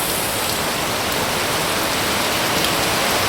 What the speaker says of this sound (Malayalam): എന്തൊരു മഴയാണോ, അടിപൊളി, തകർത്ത് പെയ്യുവാണ്